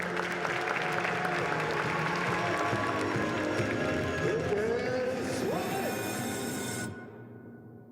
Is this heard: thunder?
no